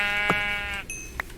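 A Minecraft sheep gives one clear, nasal bleat up front, followed by a couple of short game sound effects in the otherwise quiet gameplay.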